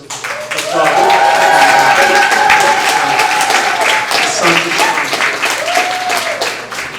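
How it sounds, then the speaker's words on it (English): An audience at a Kwanzaa Imani Night community program breaks into sustained applause that swells quickly, holds steady and then tapers, with voices and cheers mixed into the clapping. "Let's give her another hand of applause."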